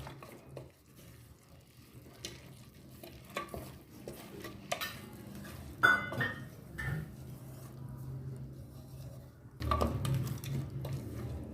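Vegetable khichdi, Hyderabadi style with white peas, is stirred in a pot. A spoon scrapes and knocks against the metal in irregular bursts over a faint sizzle, with a louder stretch of stirring near the end and no talking.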